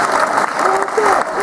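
A crowd at a François Hollande political meeting in Creil applauds loudly and continuously, with voices and a few shouts rising over the clapping.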